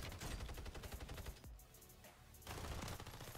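Rapid hip-fire gunshots in Call of Duty Warzone Rebirth, a dense automatic burst that pauses for about a second and then resumes, loud and punchy with no talking over it.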